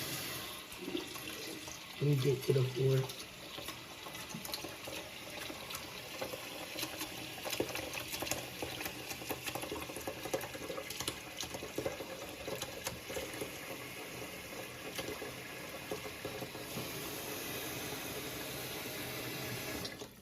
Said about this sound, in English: you're gonna want to pour water into it